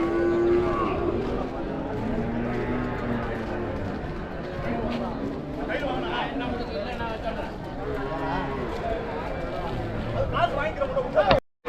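Cattle at the Vaniyambadi cattle market, where pairs of cart bullocks and heifers are being sold, give occasional moos within a loud, busy crowd with people talking throughout.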